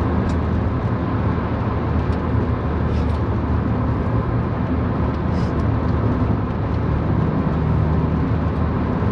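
A 1996 Peugeot 106 1.6 S16 hatchback driving, with a steady, dense engine and road roar that holds constant and loud throughout, with no talk.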